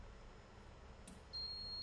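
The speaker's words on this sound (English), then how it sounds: "Audio alarm for gold and precious metals." Electronic audio alarm beep from a QuatroForce geophysical gold and precious metals detector: a steady high-pitched tone starts partway through and holds to the end over a low background hum.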